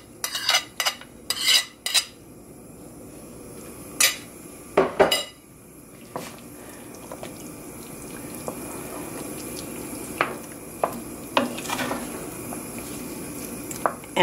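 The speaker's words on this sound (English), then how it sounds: "I'm going to add some red heirloom and some yellow heirloom tomatoes." Heirloom tomatoes going into a vegan seafood gumbo pot in a kitchen, with sharp clanks and clinks of pot and utensils, scattered irregularly over a soft running-water background, no talking.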